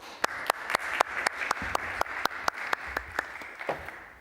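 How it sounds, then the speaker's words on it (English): Applause from an audience with a few sharp, evenly spaced claps standing out above the softer patter of many hands. "Let's welcome Jan with a round of applause."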